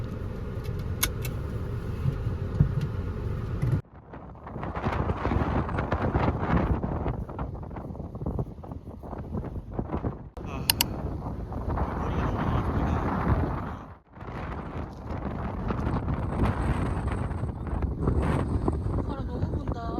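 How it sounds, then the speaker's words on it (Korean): Strong wind gusting at a beach on Jeju Island, roaring loudly into the microphone in broad, continuous buffeting with a brief lull, with faint voices underneath. "바람 너무 분다"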